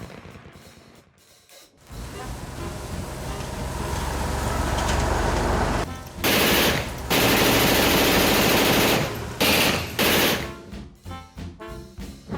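Aerial gunnery machine guns fire tracer bullets, a dense buzzing rattle of rapid shots that builds, then breaks into several loud bursts with short gaps, over engine drone.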